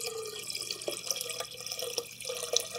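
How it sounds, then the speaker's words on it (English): Homemade fig wine is poured from a bowl into a fermenter, producing a continuous splashing liquid stream with intermittent drips and gurgles, moderately loud and close, with no talking. "going to watch me pour from this bowl into the fermenter"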